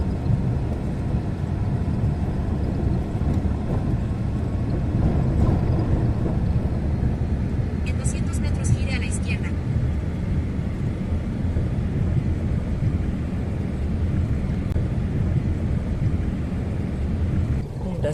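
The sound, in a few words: La Trochita narrow-gauge steam train running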